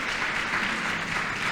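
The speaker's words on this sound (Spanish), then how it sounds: "dele un aplauso al Señor. Déselo más fuerte, aleluya, que se oiga" A church congregation claps together in sustained, dense applause at a steady close level, with no voices clearly standing out.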